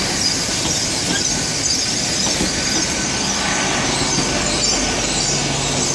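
A Great Western Railway Class 800 train, unit 800-020, stands at Exeter St David's station on an evening, giving off a steady broadband rumble and hiss with faint wheel squeal, continuous throughout with no talk.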